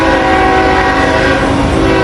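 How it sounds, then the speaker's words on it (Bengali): A train draws near along a rail line, a loud, continuous rumble of wheels on track with a sustained horn tone held throughout, close and unbroken for the whole stretch. "তখন সেই ট্রেন আরো কাছে এসে যায়।"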